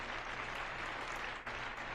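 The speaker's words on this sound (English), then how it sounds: "And a big round of applause for Phil." Audience applause on a paranormal-themed open-line show, a steady wash of clapping that stays even for about two seconds with a brief dip near the end.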